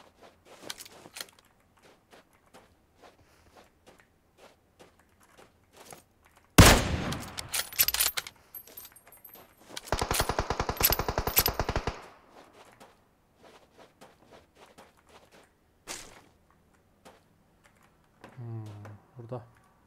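Gunfire in PUBG Mobile on the Livik map rings out in two loud, rapid bursts, one short and one about two seconds long, amid quieter clicks and a faint voice.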